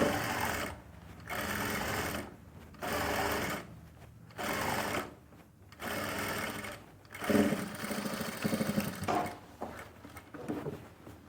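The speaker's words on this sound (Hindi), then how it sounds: "ये देखो सीधा करके अब इसके ऊपर भी एक सिलाई लगा लो" A sewing machine stitches fabric in repeated bursts, each run a fast, close mechanical whirr lasting about a second, separated by brief pauses as the cloth is adjusted.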